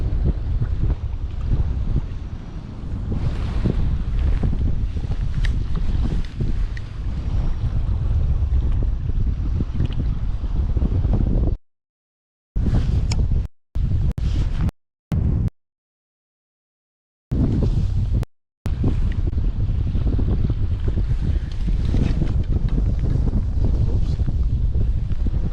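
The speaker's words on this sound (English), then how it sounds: "All these waves." Wind and choppy lake waves rush steadily past a kayak on Lake Swepco, loud and continuous with heavy buffeting wind noise, broken by a few short silent gaps midway.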